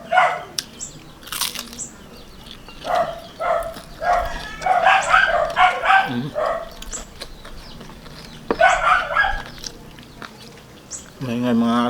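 Dogs at a neighboring house bark in repeated bursts, some distant and some nearer, over several seconds while a person talks in a home kitchen where pork belly is being cooked in a pot.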